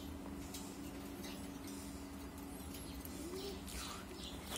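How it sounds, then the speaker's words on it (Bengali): Pet birds call faintly inside their enclosure, giving soft intermittent coos and a few light chirps over a steady background hiss. "এই হচ্ছে আমার পাখি ওখানে বর্তমানে আছে"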